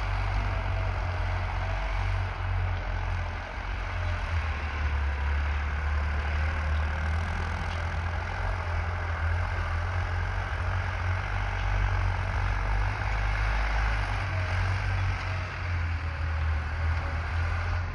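A heavy diesel engine of a 55 HP New Holland 3630 Super tractor pulling an 11-tine tiller through a field drones steadily and loudly up close, its deep throbbing rumble constant throughout.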